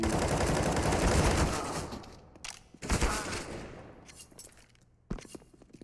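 Gunfire in a Counter-Strike match from a BOOM vs Isurus grand final. A long, loud burst of rapid shots comes first, followed by scattered single cracks and short bursts separated by quieter gaps.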